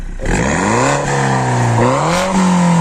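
A Stage 1 tuned Mini John Cooper Works F56 engine with a non-original restrictor revs up with a rising, throaty drone, dips slightly, then climbs again to a higher pitch, loud and close.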